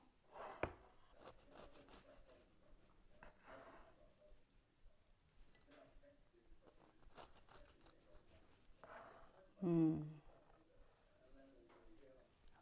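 Quiet scraping and crunching of a knife sawing through a crusty loaf of brown butter cardamom banana bread, in intermittent strokes, with a brief louder thump near the end.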